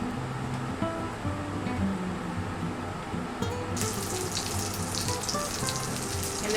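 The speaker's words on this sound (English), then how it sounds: "just a little bit of olive oil in the pan. And we're just going to sear all of the sides" Pork belly sears in olive oil in a pan, a steady frying hiss that swells louder and brighter about halfway through, with a low background hum underneath.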